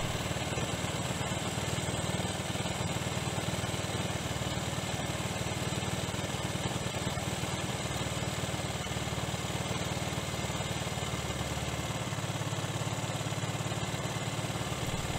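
A small engine runs steadily at idle after a carburetor adjustment, a constant close mechanical drone with no talking.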